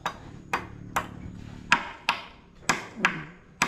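Hammer blows driving a nail into a hard coconut-wood (lumber) piece during house construction, eight sharp, ringing strikes at a steady, slightly uneven pace, close and fairly loud with a faint voice underneath.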